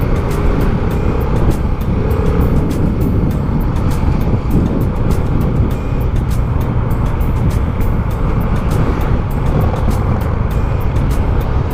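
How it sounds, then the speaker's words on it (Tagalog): Dense, loud road traffic on the South Luzon Expressway in the Philippines, a continuous roar of engines as many motorcycles pass close by, with no talking. "Uy, dami naman mga motor oh."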